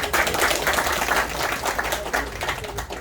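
An audience at a congress applauds the Azerbaijani consul in Istanbul, a dense, steady wash of many hands clapping together, loud and sustained throughout with a slight fade near the end.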